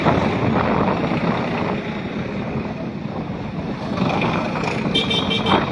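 Tractor engines rumble in a large farmers' tractor march rally in Bhadra, a loud, dense, continuous roar of many engines nearby with wind buffeting the microphone and no clear voices.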